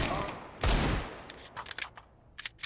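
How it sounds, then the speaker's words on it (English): Pistol gunfire in Counter-Strike on the Mirage map: one loud close shot burst early, then a scatter of sharp, lighter pistol cracks spread through the rest of the moment, no talk over it. "Oh, these pistols. 2 kills already."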